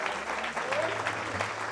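Applause from a church congregation, a dense wash of clapping filling the short moment at steady loudness, with a low hum beneath.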